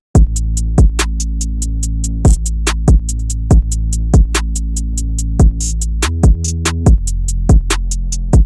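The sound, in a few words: hip-hop beat drums and bass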